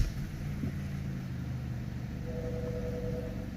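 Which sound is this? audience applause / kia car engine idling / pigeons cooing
kia car engine idling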